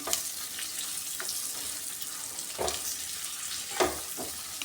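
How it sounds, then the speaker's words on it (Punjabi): Dry fruits fry in ghee for rice-flour pinni, a steady bright sizzle with occasional louder scrapes and stirs, close and continuous. "ਘਿਓ ਵਿੱਚ ਸਾਰੇ ਡਰਾਈ ਫਰੂਟ ਆਪਾਂ ਪਾ ਦਾਂਗੇ ਇਹਨੂੰ ਘਿਓ 'ਚ ਭੁੰਨ ਕੇ"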